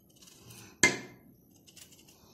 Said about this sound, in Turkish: Şimdi de patateslerimi doğrayacağım arkadaşlar